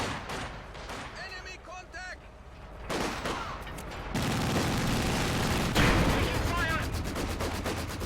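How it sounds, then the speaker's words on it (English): Panzer tank cannon fire in a Company of Heroes 2 World War II battle, loud gunfire bursts and booms over a continuous roar of combat noise, with commentators talking throughout. "Wow, that was an incredibly lucky Panzer trick shot"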